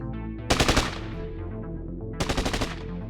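Two bursts of automatic fire from an M4A3 rifle during an attack inside a casino, each a quick string of loud, close shots with a ringing tail, separated by more than a second of echoing lull.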